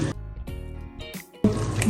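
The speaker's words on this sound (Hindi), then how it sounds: "अब यहाँ मैं शामिल कर रही हूँ इमली का पानी।" Tamarind water is poured and stirred in a kitchen while preparing Hyderabadi aloo bharta chaat, with liquid splashing and sloshing in short uneven bursts and brief pauses, close and fairly loud.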